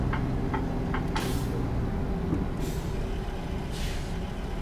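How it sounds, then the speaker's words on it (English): A dump truck braking on a highway in American Truck Simulator, several sharp hissing air-brake bursts over a steady low engine and road rumble, with a few faint clicks early on and no talking. "Why are you hitting your brakes for, Mr. Dump Truck?"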